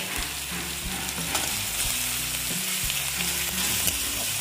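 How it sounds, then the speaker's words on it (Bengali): Ginger garlic paste frying in oil in a pan for an egg curry gives a loud, steady sizzle with crackling throughout, close and with no voices. "ভালো মতন আমি এটাকে ভেজে নেব, যাতে আদা রসুনের গন্ধটা চলে যায়"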